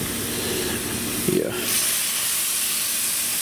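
Butter sizzling and melting in a hot pot on a stove turned up to medium heat, a steady hiss with a brief louder burst partway through, and a voice speaks a word over it.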